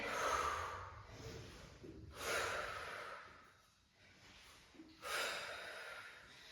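Heavy breaths taken close up during a full-body exercise workout, forceful exhales and inhales in a slow repeating rhythm, about three strong pushes of air separated by brief quieter pauses.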